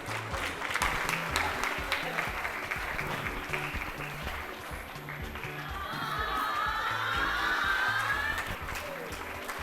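An audience at a school cooking-competition final applauds steadily for the whole stretch, a dense sustained clapping with faint crowd murmur, swelling slightly toward the end.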